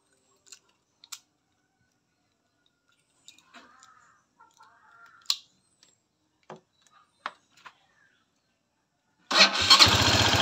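A motorcycle running its stock CDI unit: a few faint clicks and taps first, then the engine catches on one press and settles into a loud, steady idle close by.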